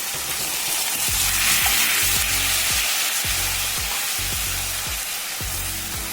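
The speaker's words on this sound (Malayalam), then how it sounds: "ഇനി അരച്ച് വെച്ചിരിക്കുന്ന സവാള അതിലേക്ക് ഇടുകയാണ്." Ground onion paste fries in a pan for a paneer vegetable dish, giving a loud, steady sizzle broken by regular scraping stir strokes roughly every half second, with no talking.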